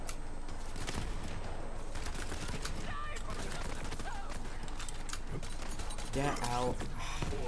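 Pistol fire in the shooter game Borderlands 3, with dense bursts of shots and combat noise running throughout, fairly quiet and mixed under a player's voice.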